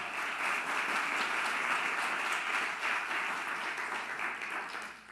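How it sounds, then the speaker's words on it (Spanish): A church congregation applauds steadily throughout during a sermon service, a dense, continuous wash of clapping heard from within the room at moderate level with no speech. "¿Cuánto le dan un aplauso a Dios?"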